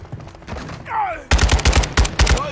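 AK rifle gunfire in Call of Duty: Modern Warfare II multiplayer: loud, punchy bursts of rapid automatic shots in an uneven rhythm, following a brief whistling sweep.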